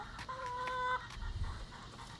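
A backyard chicken flock gives a short clucking, warbling call, then softer low murmurs against a quiet outdoor background with no talking.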